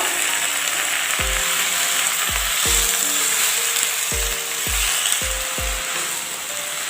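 Heart leaf greens fry with tomato in a pan, a continuous bright sizzle broken by about nine sharp knocks of a spatula stirring against the pan.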